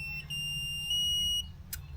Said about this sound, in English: It gives a little beep